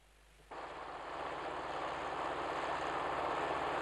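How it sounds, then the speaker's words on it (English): A helicopter mustering cattle on Yeeda Station cuts in abruptly as a broad, steady rotor and engine roar that swells slightly louder and closer. "So Malcolm moves on to Yeeda Station, where a helicopter musters in full swing."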